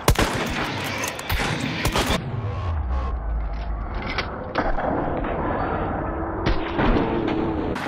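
Gunshots in the video game Hunt: Showdown, a burst of sharp loud reports in the opening two seconds followed by scattered fainter shots and rumble, with voices talking over parts of it.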